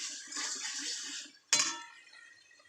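Water poured into a hot pan of well-fried spice masala for a fish curry, a rushing pour followed by a sharp hiss and splash that fades as the liquid settles.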